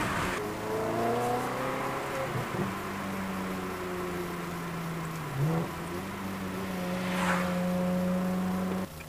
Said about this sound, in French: On va voir un petit peu là pour écouter le moteur quand même.